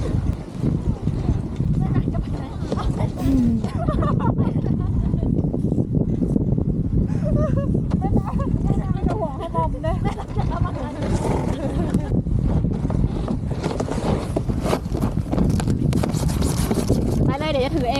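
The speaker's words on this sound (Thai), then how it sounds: "แต่ว่าสังเกตลมได้ ลมแรงมากมากมากเลย" Strong wind roars steadily at the final snowboard slope of a ski resort, buffeting the microphone loudly for the whole stretch while someone talks over it.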